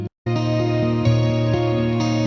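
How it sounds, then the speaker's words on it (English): Layered guitar harmonies from a song, sustained chorus-soaked chords ringing steadily after a brief gap, atmospheric and even in loudness. "harmonies with the guitar"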